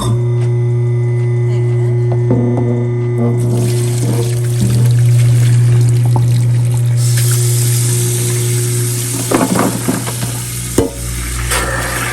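Boiled bones are rinsed in a kitchen sink with a disposal, giving a loud steady rush of running water with a low hum, splashing, and clattering handling toward the end.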